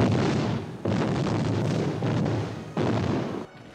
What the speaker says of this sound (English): We had multiple angles of all these huts exploding